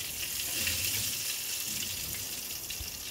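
Chicken fries in hot oil, a dense, steady, crackling sizzle heard up close throughout, with faint low bumps underneath.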